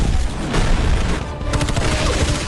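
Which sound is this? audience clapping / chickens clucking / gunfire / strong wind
gunfire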